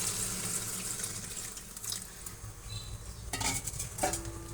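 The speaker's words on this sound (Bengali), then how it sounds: "তাই আমরা এখন পানিটা দিয়ে দিচ্ছি।" Water is poured into a pan of beef liver curry (bhuna) in a home kitchen: a steady splashing pour with light stirring and faint sizzling, and no one speaks.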